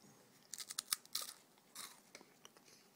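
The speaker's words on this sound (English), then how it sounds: "Crunch the puff." Crisp crunching of a puffed snack, several quick close bites and chews in an irregular burst, then quieter crunches trailing off.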